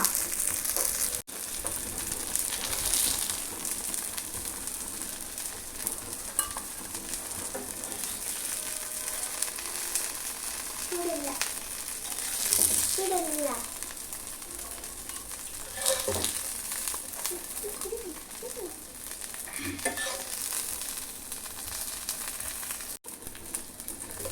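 Anchovies frying in oil make a steady, moderately loud broadband sizzle that runs through the whole stretch, with scattered crackles and a few soft scraping or stirring touches, and no talk.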